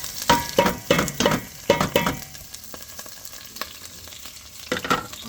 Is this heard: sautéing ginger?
yes